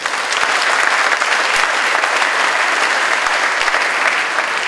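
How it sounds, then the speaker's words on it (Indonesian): Loud, dense applause from a church congregation during a sermon, a sustained even roar of many hands clapping close by with no speech over it. "Kasih tepuk tangan buat Tuhan Yesus"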